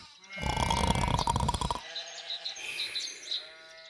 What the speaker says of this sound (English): Ooh, look at all those delicious sheep.